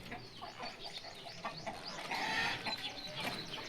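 Chickens cluck outdoors at a moderate distance, their overlapping clucks and short calls coming fairly quietly against soft background noise.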